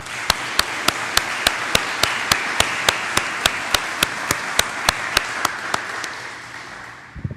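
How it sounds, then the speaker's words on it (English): Steady, evenly spaced claps ring out over a soft crowd hiss at a police academy graduation ceremony, a round of applause for the award winners that thins out near the end. "Let's give one more round of applause for all the award winners"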